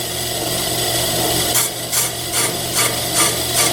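A brake lathe bit scraping across a brake rotor during a scratch cut, a steady grinding rasp with machine hum underneath and a rhythmic series of louder scraping passes, close and alone.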